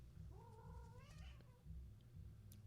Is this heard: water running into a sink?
no